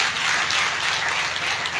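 Audience applause at a BJP Mahila Morcha event in Solan, steady dense clapping from a large crowd filling the whole moment without pause.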